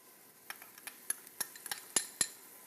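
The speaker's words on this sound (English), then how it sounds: "we're going to go ahead and add our minced garlic" Light metallic clinks and taps of a utensil against a pan as minced garlic goes into onions sautéing in olive oil, a scattered series of about a dozen quiet, sharp hits with no talking.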